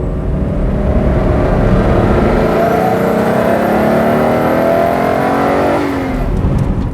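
A Subaru Legacy Turbo 4WD engine revs hard on the road, its pitch climbing steadily for several seconds, then dropping as the throttle lifts. The sound is loud and close, with no talking.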